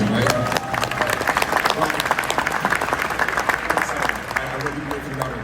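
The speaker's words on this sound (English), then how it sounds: "Give a round of applause." A convention audience breaks into a full round of applause, dense rapid clapping that keeps going across the whole stretch with a few cheers mixed in, while a speaker's voice briefly cuts in.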